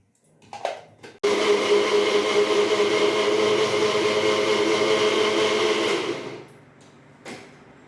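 An electric grinder whirs continuously for about five seconds, loud and steady, blending a fine paste for potol korma before winding down, with a few kitchen clatters around it.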